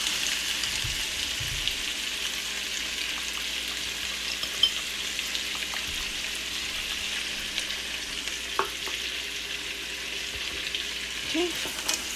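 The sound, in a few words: stirring smoked turkey and zucchini in a pot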